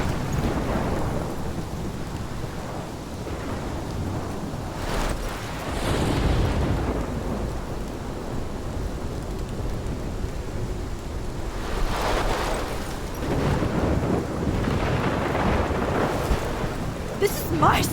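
A thunderstorm with steady rain and broad rumbles of thunder, two heavier swells standing out around the middle and later, with faint voices now and then underneath.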